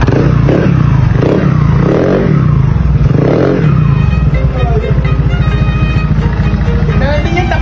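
Honda PCX 160 scooter with a tuned CVT running close by, its engine holding a loud, steady buzzing drone that becomes more rhythmic toward the end.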